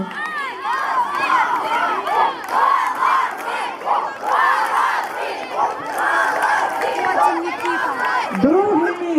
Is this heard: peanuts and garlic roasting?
no